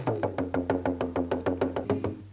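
Talking drum struck with a stick and left unsqueezed, a rapid regular series of round, boomy hits with a steady low tone, close and alone.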